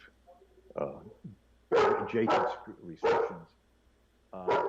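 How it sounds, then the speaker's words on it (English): A dog barks several times in short bursts close by, alongside a person speaking. "that's my dog."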